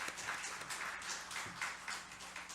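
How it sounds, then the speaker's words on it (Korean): A church congregation claps together during a Sunday worship service, giving a round of praise applause: steady, dense clapping with soft rhythmic pulses, fairly faint and heard from a distance. "우리 다시 한번 하나님께 영광의 박수 올려드리겠습니다"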